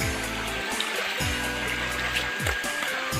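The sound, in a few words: waterfall and stream water flowing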